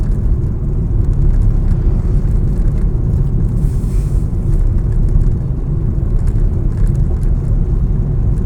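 A car drives at night on a narrow road as vehicles approach from the front: a steady, loud, low engine and road rumble continues throughout without a break, with no speech.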